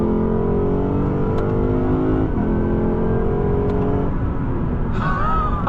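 2023 Lexus RC F engine accelerating, a loud sustained rising engine roar heard from inside the car, with a gear change partway through and the revs climbing again.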